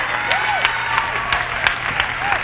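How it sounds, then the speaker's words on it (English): A church congregation applauds in a full, steady wash of clapping. Bright chirping or whistle-like cries and shouts rise over it now and then. "Clap your hands and praise God."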